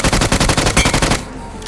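Rapid automatic gunfire in BGMI, the battle royale mobile game, rattles in a dense, loud burst of evenly spaced shots for over a second, then cuts off to near quiet.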